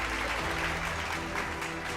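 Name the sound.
audience applause at an event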